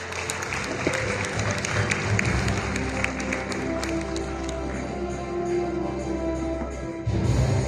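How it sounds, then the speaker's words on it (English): Sustained applause from a forum audience for a keynote speaker at a Manila conference on Philippines-China relations, many hands clapping steadily for several seconds under a low hum before cutting off near the end. "Let's give him another big round of applause."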